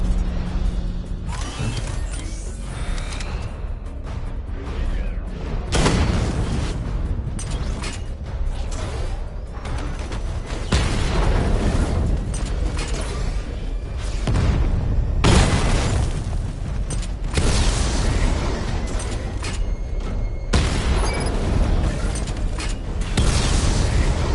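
Heavy booming missile barrage explosions from the Batman Arkham Knight video game hit in repeated bursts, each a broad rumbling blast, with mechanical whirring between them and no talk.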